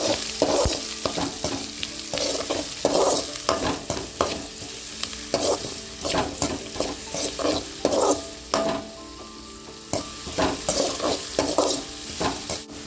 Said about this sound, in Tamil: வெங்காயம் இந்த அளவுக்கு வதங்கிருச்சு.